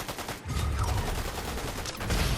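Rapid bursts of automatic gunfire from a Fortnite match crackle almost without pause, dense overlapping shots holding at a steady, moderately loud level throughout.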